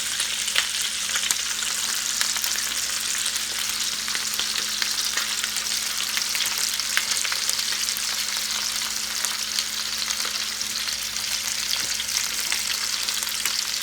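Chicken thighs and sliced onion fry in a pan with a steady, loud sizzle that runs unbroken throughout, with occasional crackles and the scrape of stirring.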